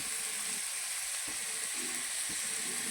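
Curry leaves with garlic and ginger sauté in a pan, a soft, steady sizzle with faint intermittent stirring scrapes, low and close throughout without any voices.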